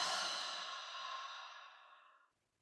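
A single long, breathy exhale releases close to the microphone, loud at first and gradually fading out over about two seconds to silence.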